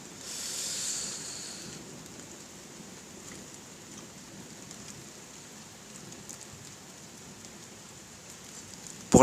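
Steady rain falls during an October thunderstorm in Carpentras, a dense even hiss that swells slightly in the first two seconds and then holds at a moderate level, with no talking.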